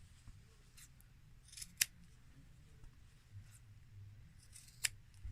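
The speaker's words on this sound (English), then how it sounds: "You just want to cut them on an angle like this so that there's less bulk in the corners when you go to turn it." Two sharp snips of scissors cutting fabric corners on an angle, spaced a few seconds apart, with faint handling rustle in between and a low background hum.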